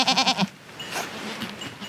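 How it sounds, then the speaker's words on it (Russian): A goat gives a loud, close, wavering bleat in rapid pulses, then quieter animal and outdoor sounds follow. "Козлик очень такой добрый."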